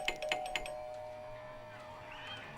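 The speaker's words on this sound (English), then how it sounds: "She would never ring the doorbell so many times." A doorbell rings several times in quick succession in the indie horror game Soviet Spooky Tales: Green Eyes, then fades into a low, steady indoor hum with a faint tonal drone.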